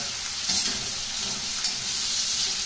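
Lamb chops and potatoes browning in a pan make a steady, close, bright sizzle with occasional crackles, no voices.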